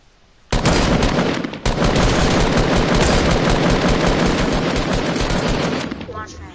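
Loud, close automatic gunfire from a squad battle-royale shooter: a long, continuous burst rattles for several seconds after a brief pause, with a voice speaking under the shots.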